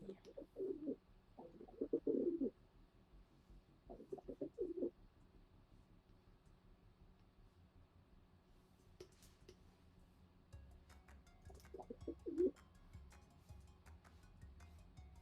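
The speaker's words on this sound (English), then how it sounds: "Is that an angry pigeon? Bitch pigeon that I hear?" A pigeon perched on top of a microphone tower coos in several short, low, throaty bursts, close and distinct, separated by quiet pauses, with faint clicks and room noise between calls.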